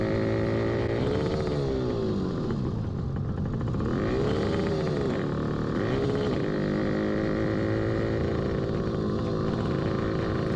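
A small motorcycle engine runs loudly up close, its pitch repeatedly rising and falling as the throttle is blipped, with a steady mechanical clatter underneath and no talking.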